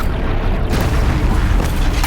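A fire attack sets a machine ablaze in Horizon Zero Dawn, a loud, rumbling boom with a roaring burst of flame that swells midway and keeps churning to the end.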